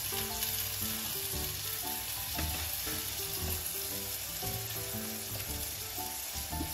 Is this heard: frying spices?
yes